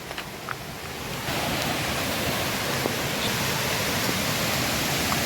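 A hidden waterfall in Canacona, Goa, makes a steady broadband roar of falling water that swells after the first second and stays constant, with no talk.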